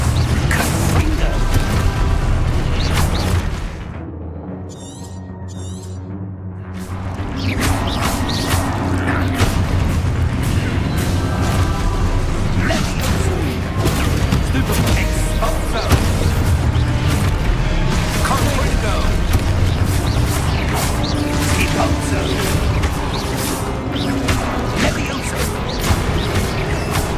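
Confringo blasting spells going off in Hogwarts Legacy, loud booming explosions and crashing impacts that roll on for most of the stretch, with a brief quieter gap near the start and a voice calling out.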